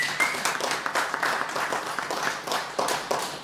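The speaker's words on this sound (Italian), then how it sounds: "Un applauso a Francesco Puglisi." Audience applause at a jazz trio concert, a moderately sized crowd clapping in a loose, uneven patter with distinct individual claps, somewhat distant and fairly soft.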